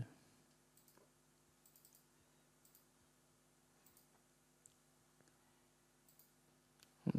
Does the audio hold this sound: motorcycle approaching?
no